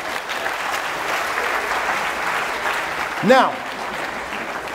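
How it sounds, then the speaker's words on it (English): Audience applause at a college stage hypnosis show, a steady wash of clapping from a full room that continues under a speaker's voice, with a brief louder swell near the end. "Give them one more round of applause."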